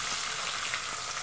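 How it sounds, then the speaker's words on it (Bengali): Chopped onions dropped into hot oil for a mutton and potato curry sizzle in a continuous, even hiss over a brief stretch. "এই তেলের মধ্যেই আমি দিয়ে দেব পেঁয়াজ কুচি।"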